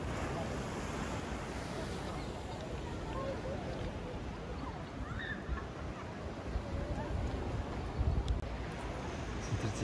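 Calm sea washing onto a beach, a steady broadband roar of gentle surf with wind buffeting the microphone, constant and fairly close throughout.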